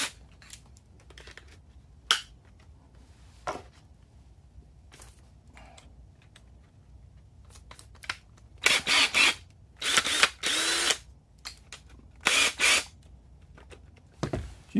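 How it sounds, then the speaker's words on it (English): Several short bursts of a power drill spinning a countersink or step drill bit, each lasting about a second, separated by quiet gaps and scattered small clicks and taps. "Now I've got my drill here, and we're going to try one of these out."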